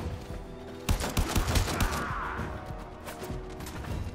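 Gunfire in the Warframe video game during headshots, heard as a quick burst of close, sharp shots with a mechanical rattle near the middle, then fading reverberant noise and no voices.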